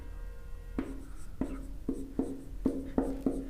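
Marker or chalk writing on a board during a teaching-methods lesson, a series of about seven short scraping strokes spaced irregularly, fairly close and quiet, with no talking.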